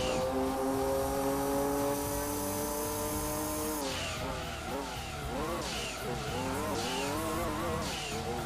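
Engine of a $2 million race car in Gran Turismo 2 at night in Rome, tones gliding down then wavering up and down as it shifts and revs, with repeated tire squeals, loud and continuous.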